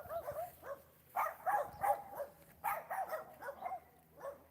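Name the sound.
dogs barking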